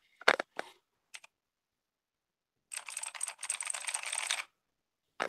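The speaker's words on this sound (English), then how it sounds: "I'm gonna connect my loudest keyboard in the world." An extremely loud computer keyboard clacks through several separate bursts of keystrokes, sharp and close, including one longer rapid run of typing, with silent gaps between the bursts.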